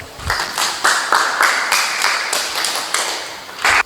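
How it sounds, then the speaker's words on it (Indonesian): A classroom group of students claps for a presenting group, a short run of loud, close, rhythmic claps in several bursts, partly in unison, with a bright ringing tone beneath. "Kita berikan aplaus dulu di kelompok 2."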